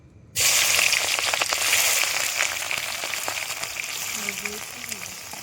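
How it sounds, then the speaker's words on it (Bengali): Potatoes dropped into hot oil for biryani at an outdoor family picnic, a sudden loud sizzle that settles into steady close crackling frying, with a voice talking briefly under it. "আলু ভাজবো চোকাতে"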